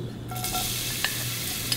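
Minced garlic fries in cooking oil in a pot, giving a steady close sizzle with a brief stir and a couple of faint clinks of a utensil against the pot.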